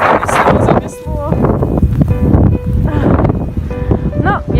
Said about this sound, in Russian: Вот, смотрите, видите, какой порыв ветра?